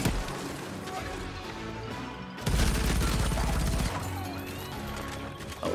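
Gunfire from a weapon with noticeable recoil in the action shooter Shadow Warrior 3, a dense loud burst of shots over busy game noise and music, with a person talking over it.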